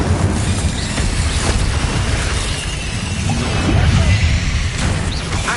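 Incendio and Bombarda spell blasts in Hogwarts Legacy, heard as a continuous, dense wash of fiery whooshes, crashes and bursts that overlap without pause. The noise stays loud and stays full throughout.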